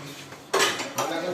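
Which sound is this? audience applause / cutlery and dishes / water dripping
cutlery and dishes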